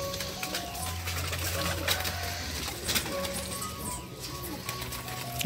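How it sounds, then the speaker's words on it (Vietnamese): Pigeons at a pigeon farm, with a steady low cooing and scattered clicks and flutters over a busy outdoor background, loud and close, with no speech. "bồ câu đang bay lên cả nhà"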